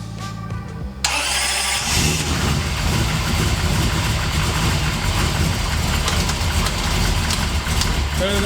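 A V8 engine in a turbocharged GT47 Supra fires on its first start, cranking briefly and then catching into a loud, rough, continuous idle close by, with voices talking over it.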